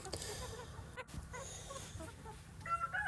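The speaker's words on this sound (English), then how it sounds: "putting these leg bands on these new chickens that are just about to start laying eggs" Chickens about to start laying cluck and squawk as leg bands are fitted, a nearby jumble of soft clucks with a sharp squawk midway and handling noise throughout.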